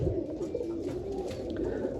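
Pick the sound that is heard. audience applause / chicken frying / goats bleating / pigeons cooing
pigeons cooing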